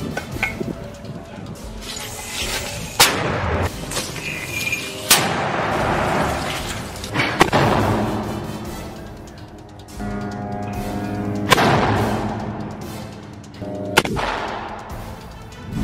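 Gunfire and artillery fire during combat in Gaza, with a series of sharp, loud blasts at irregular intervals, each trailing into a rumbling echo, over a steady background din.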